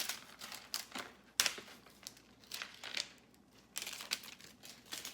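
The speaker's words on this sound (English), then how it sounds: "all you do is find a corner and just start peeling it back" Weeded vinyl being peeled back from its backing sheet for a Cricut mug project, a series of close crackling, crinkly tearing rustles in short bursts with sharp onsets, fairly quiet.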